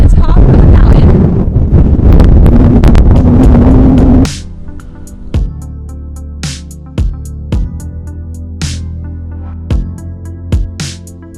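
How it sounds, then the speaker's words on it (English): Strong wind buffets the microphone on a mountaintop viewpoint in Los Angeles, a loud roaring rumble for about four seconds before dropping away to quieter gusts, with a few sharp knocks and clicks following. "It's so windy up here, but the sun is finally out."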